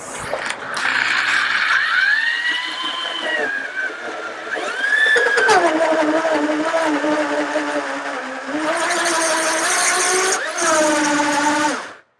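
Power drill whirring continuously while working wood, its pitch rising and falling as speed changes, loud and close, cutting off abruptly at the end.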